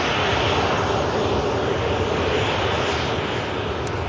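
An aircraft departing from Manchester Airport gives a loud, steady, broadband engine roar that holds evenly throughout with no voices.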